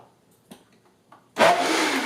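A blender churns a thick mango fruit smoothie, kicking in suddenly with a loud, steady whirring roar after a few quiet clicks and rustles.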